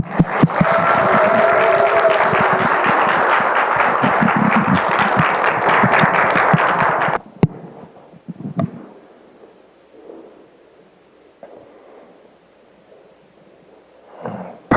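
A church congregation gives loud, sustained applause with clapping and cheering for about seven seconds, then it cuts off abruptly to a quiet room with scattered faint rustles and small knocks.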